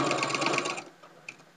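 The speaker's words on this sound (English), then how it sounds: "I'm going to sew a little bit on this corner and leave my opening in the middle" A sewing machine runs a short burst of back stitching on the corner of a handmade tag blanket, its rapid needle rhythm close and steady for under a second before stopping, followed by a faint click.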